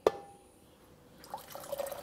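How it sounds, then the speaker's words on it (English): Chilled water poured into a slightly too-small jug while making lemonade, a brief faint splash followed by a soft trickle with no voices. "Let's put that water in anyway."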